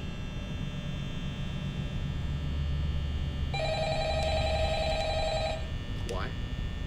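Telephone ringing in the video game Five Nights at Freddy's: a tonal electronic ring lasting about two seconds, cut off abruptly, heard over a constant low hum and ambient drone.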